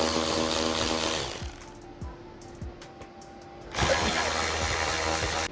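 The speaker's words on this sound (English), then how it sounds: "We've got two screws here, Torx 25, one there, one there. We'll go ahead and take them two off." A cordless power driver whirs loudly as it backs out Torx 25 screws from a VW Passat front fog light, two long buzzing bursts separated by a quieter gap with faint clicks and knocks.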